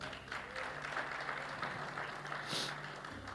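A church congregation breaks into applause, a dense wash of clapping that swells briefly near the end, heard somewhat distantly with faint voices mixed in.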